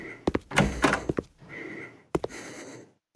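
Doors opening and thudding shut in the horror game Run Rooms, a series of sharp knocks and sliding rumbles in two clusters separated by a brief pause, close and fairly loud, with no voices.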